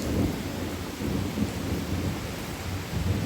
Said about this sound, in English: We don't get these thunderstorms like that, like this crazy anymore.